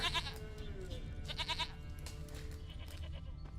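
A goat in The Witcher video game bleats several times, nasal and wavering, over steady game ambience and music, close and clear with no talk.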